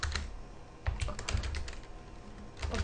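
Keys tapped on a computer keyboard while entering text for an IMVU opacity map, a quick irregular run of close, crisp clicks with short pauses and no talking.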